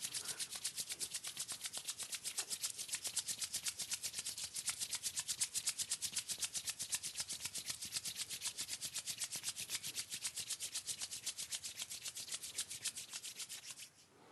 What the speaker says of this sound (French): on joint les mains et on vient les frotter ensemble. On frotte de plus en plus vite.